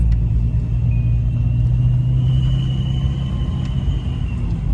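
A supercharged VR6 engine in a silver Mk3 VW Jetta rumbles steadily and loudly from inside the car as it cruises, a constant deep drone with no talking.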